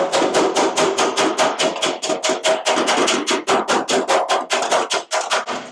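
Rapid metal hammer-and-dolly strikes knock dents out of the steel cab of a 1956 International cabover pickup, a steady run of about thirty sharp, close, loud blows with no talking.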